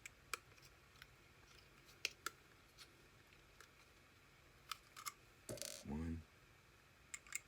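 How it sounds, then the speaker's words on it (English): A screwdriver works two screws out of an HP OfficeJet Pro printer board, giving scattered small metallic clicks and taps, close and quiet, with a short burst of scraping near the end and a brief spoken count. "We're going to take off these two screws right here."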